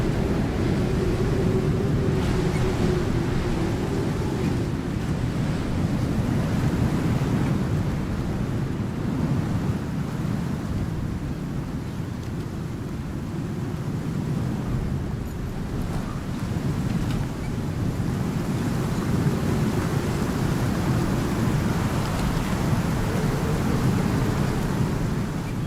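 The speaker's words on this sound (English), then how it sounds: "Vicious storm." A vicious storm in the survival video game Icarus, a loud, steady roar of wind and surf-like rushing that swells and dips slightly over its length, with no distinct thunderclap standing out.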